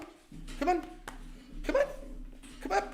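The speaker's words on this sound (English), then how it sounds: "Sorry about that brief dog interruption." A dog barks and whimpers indoors in short, excited bursts while a man keeps calling to it.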